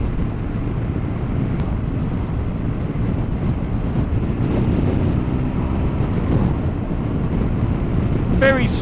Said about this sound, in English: Very smooth engine this, it's really, really nice. A lot quieter than the water-cooled engines.